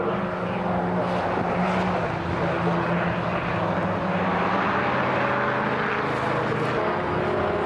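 Revival Jaguar D-type sports racing cars at a circuit, a loud continuous engine roar with a rising and falling pitch as they pass at speed, with a dense rumble of other cars on track.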